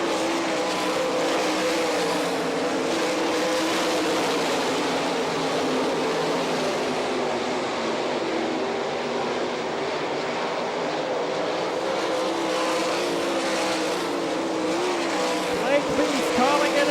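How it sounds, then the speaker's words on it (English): Sprint cars racing on a dirt oval with the All Star Circuit of Champions at Rossburg, Ohio: a continuous loud roar of engines winding up down the front stretch, with no talk. "Shepard leading McMahon down into turn number 3. Winding it up the front stretch."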